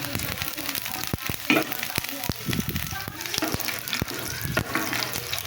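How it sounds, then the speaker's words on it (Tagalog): Ginger sizzles in hot cooking oil in a pan as it is stirred, giving a steady close crackle broken by sharp clicks and scrapes of the utensil, with a voice talking faintly over it. "Cooking oil, tapos luya. Haluin lang hanggang sa umamoy na yung aroma niya."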